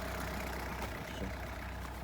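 A YUMZ tractor engine runs steadily at idle with a low, continuous rumble, quiet and unbroken, with no one speaking.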